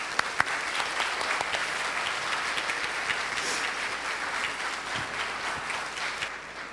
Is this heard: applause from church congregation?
yes